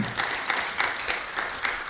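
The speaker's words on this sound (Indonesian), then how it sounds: "Inggih nunas tepuk tangan nyane semeton sareng sami." Audience applause at a Balinese-language cultural program, a steady wash of many hands clapping with periodic swells, moderately loud and continuous.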